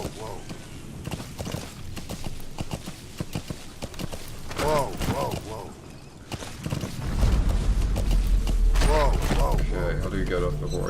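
In Metal Gear Solid V: The Phantom Pain, horse hooves clop in an uneven rhythm amid creaks and mechanical clatter, with a deep rumble swelling in partway through and voices speaking over it.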